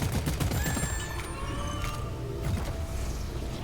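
Gunfire from weapons in the sci-fi mining shooter Deep Rock Galactic, a dense continuous burst of shots over game effects and tones, fairly loud and steady throughout.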